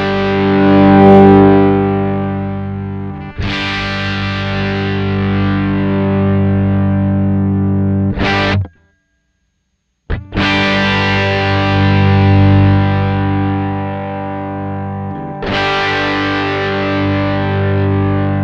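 Electric guitar played through a Joyo distortion pedal rings out in loud, sustained chords, struck about every five seconds, with one brief near-silent gap midway and no talk.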